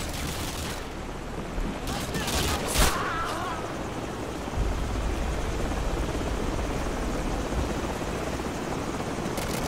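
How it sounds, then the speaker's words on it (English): Helicopters in Call of Duty: Modern Warfare 2 rumble steadily and close, with bursts of gunfire near the start and voices speaking over the noise. "Enemy choppers in 15 seconds."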